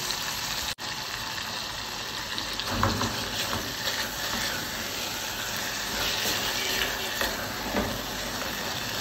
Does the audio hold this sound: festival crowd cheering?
no